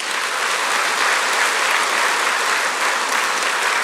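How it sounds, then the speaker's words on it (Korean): Church congregation applauding during a sermon, a dense, even wash of many hands clapping steadily with no talk over it. "자, 우리 박수 한번 치죠."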